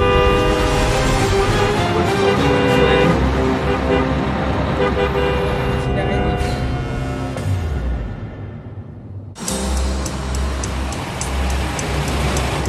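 Horns blare repeatedly in congested road traffic, long sustained honks stacking over a steady engine rumble, loud and close, briefly cutting out before resuming.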